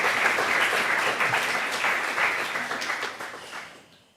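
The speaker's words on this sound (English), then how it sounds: "Please, a round of applause." A live audience at an evening tech event applauds a panel of investors, a dense, sustained round of clapping that holds steady before tapering off at the end.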